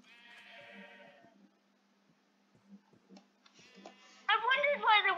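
Sheep bleat in a Minecraft sheep farm, a few drawn-out game bleats, the last one loud and wavering, over a steady quiet ticking background.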